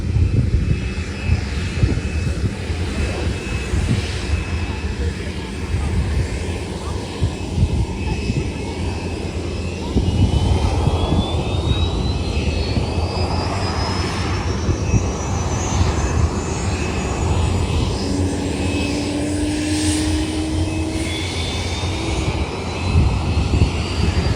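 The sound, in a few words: Lockheed U-2 aircraft landing at RIAT airshow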